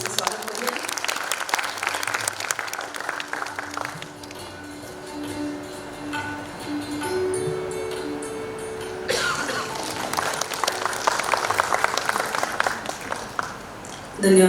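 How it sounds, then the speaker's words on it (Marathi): Sustained applause from an audience at a Dr. Babasaheb Ambedkar Jayanti lecture, dense clapping filling the whole stretch and swelling louder toward the end. "जोरदार टाळ्या वाजवून त्यांचं स्वागत करूया।"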